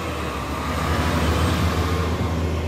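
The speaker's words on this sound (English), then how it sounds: "Excuse the noise, I've just got a truck going past." A truck passes close by outside, a loud, steady low rumble with broad road noise that swells slightly mid-way and holds throughout, with no talking.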